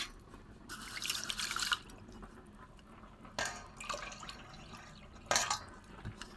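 Food is rinsed by hand in water while cooking a Bengali hubosi recipe. Splashing and swishing comes in a few short bursts over a low background, nearby and with no talk.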